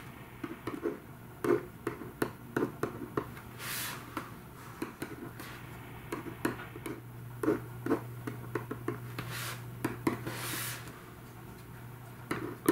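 Pen scratching out a soil consolidation settlement calculation on paper, with short irregular strokes and taps repeating close by under a steady low hum, with no talking.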